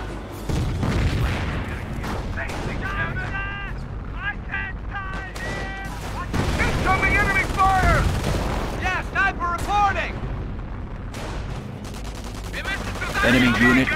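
Battlefield gunfire in the World War II strategy game Company of Heroes, set around St. Lo in Normandy: scattered rifle and machine-gun shots with heavy booms keep sounding throughout, mixed under frequent radio-style voices of the soldiers.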